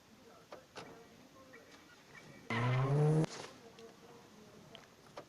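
A car engine in the Granny video game revs briefly and loudly as the car reverses, a rising tonal whine of under a second over faint background game sounds.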